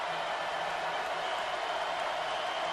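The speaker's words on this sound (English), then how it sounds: "a good many folks are indeed still here making some noise" A steady, distant wash of stadium crowd noise fills a college football game between Florida Atlantic and top-ranked Alabama, a faint, continuous cheering roar without distinct peaks.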